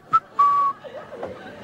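A voice imitating a woman whistling: a short high whistled note followed by a longer sustained one, clear and close, then some faint vocal sounds.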